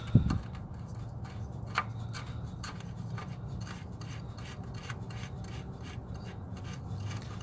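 An oil filter on a JX35/QX60 being lined up and spun on by hand, giving a soft, continuous rasping and rubbing with a few small clicks, close and fairly quiet, with no talk.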